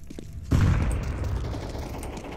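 Grenade detonating in Counter-Strike 2, a sudden close heavy blast after a brief quiet start, followed by a rumbling echoing tail that decays slowly over two seconds.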